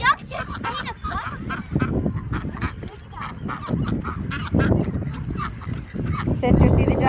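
Ducks at a park pond honk and quack in loud, repeated bursts close by, mixed with voices talking while the birds are being fed.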